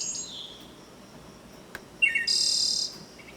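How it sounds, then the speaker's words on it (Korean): A short example of bird song: clear, high chirping notes in a couple of bursts, with a brief tick between them, heard on its own against a quiet background. "그다음에 새소리."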